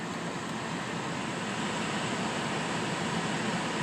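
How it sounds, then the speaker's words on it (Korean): Steady broadband rush of air from the air conditioning vent of a 2008 Mohave 4WD KV300 SUV with about 157,000 km, set to auto, constant and fairly loud with no talking. "에어컨 바람도 시원하게 잘 나오고요"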